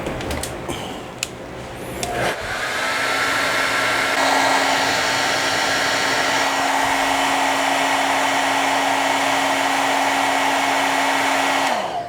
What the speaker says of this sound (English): I'm going to heat this up with my hairdryer and see if that'll do it